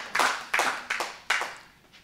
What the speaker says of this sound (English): Clap it up for our praise team, man.